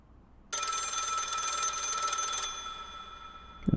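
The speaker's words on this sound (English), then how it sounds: "The phone." A telephone bell rings loudly and continuously for about two seconds, then cuts off abruptly and leaves a fading resonance before a faint bump at the end.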